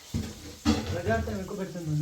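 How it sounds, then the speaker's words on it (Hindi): Dal tadka sizzles and spits in a hot pan, with a sharp burst at the start as the tempering hits, then a steady frying hiss and faint stirring. Voices talk nearby. "यहाँ पे तो तैयारी हो रही है दाल तड़का लगाने की"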